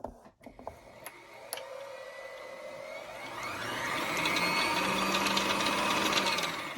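A Brother XL2600i sewing machine winds a bobbin: a few sharp clicks and taps come first, then the motor whirs up and keeps spinning with a steady, rising hum.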